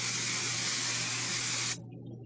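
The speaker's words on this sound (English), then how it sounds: "give the hair a nice light spray" Hairspray from an aerosol can hisses in one steady, close burst onto styled hair, lasting under two seconds before cutting off sharply into quiet.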